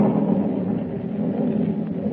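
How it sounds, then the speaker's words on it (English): Thunder crash sound effect in an old-time radio drama storm, a continuous low rolling rumble held at steady loudness with no voices over it. "Lightning cleaves the black sky and thunder crashes"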